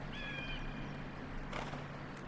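A horse runs in the video game Shadow of the Colossus, its hooves giving faint soft thuds under a steady game backdrop, with a brief whinny-like tone near the start.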